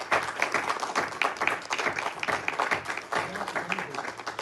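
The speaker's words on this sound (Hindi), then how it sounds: "प्लीज़ मुमताज़ साहब के लिए बहुत तालियाँ, एक दफ़ा स्टेज पे आइए।" An audience at a meet-and-greet event applauds to welcome a director on stage, giving dense, rapid clapping that surges unevenly and stays fairly close.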